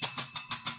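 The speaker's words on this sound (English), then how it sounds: "Ring the bell." A small bright bell rings in quick repeated strikes, three or four close, clear dings in under a second, with no voices.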